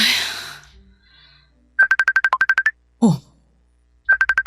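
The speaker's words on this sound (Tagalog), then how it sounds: "May tumatawag ulit." A mobile phone ringtone for an incoming call, a rapid series of bright electronic beeps in repeating bursts with pauses between, close and clear, with a brief spoken exclamation between bursts.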